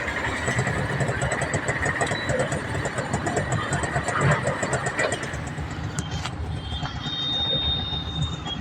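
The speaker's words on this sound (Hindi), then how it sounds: "बाइक से जा रहा हूँ।" A motorbike engine runs steadily and loudly up close while riding toward an auto stand, a continuous rumbling drone with wind noise and no speech.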